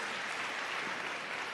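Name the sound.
congregation applause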